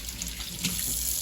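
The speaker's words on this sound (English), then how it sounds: "I'm going to wash my hands" Tap water runs steadily into a kitchen sink for hand washing, a close, continuous splashing hiss over a brief moment.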